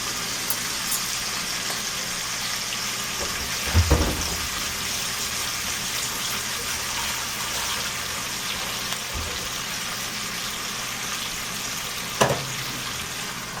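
Chicken seasoned with salt and turmeric sizzles steadily in a pan over low heat, a constant soft frying hiss broken by a couple of brief clunks.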